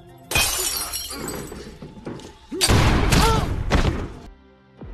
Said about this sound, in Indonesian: si wanita mengambil sebuah botol dan memukulkannya ke kepala Kane